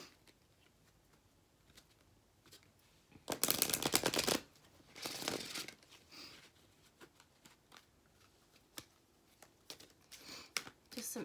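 Oracle cards being shuffled in a few crisp bursts, riffling and ruffling close by, with quieter taps and handling in between.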